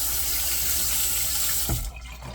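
A bathroom faucet runs in a strong steady stream to wet the face before shaving, loud and close, then shuts off abruptly near the end, leaving faint room tone.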